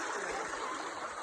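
Water of a stream runs steadily over rocks outdoors, a close, continuous broadband rush without pause.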